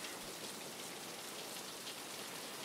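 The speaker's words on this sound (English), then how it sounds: "The rain was coming down." Rain pours down steadily, a dense, even wash of hiss and patter that holds at a constant level throughout with no voices.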